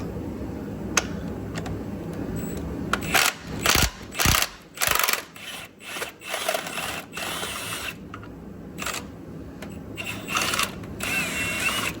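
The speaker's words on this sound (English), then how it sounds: "We're gonna loosen our rear mount." A ratchet with a 19mm socket loosens the rear engine mount bolt on a turbocharged Honda Civic Si FA5 during teardown, with bursts of rapid clicking, separate short cranks, and pauses between, close and loud.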